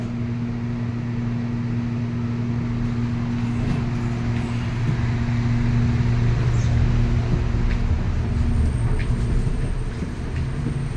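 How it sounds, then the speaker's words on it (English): A train pulls away from a station, a steady low rumble with a droning motor hum that builds slightly, heard from inside or beside the carriage with no talk over it. "The doors are closing. Train departing."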